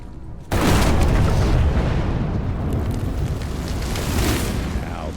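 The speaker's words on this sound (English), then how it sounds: "Now that is how you shape an explosion." A big explosion in the video game Evil West bursts in suddenly after a brief quiet, then a loud, rumbling roar and debris sustain for several seconds at high level.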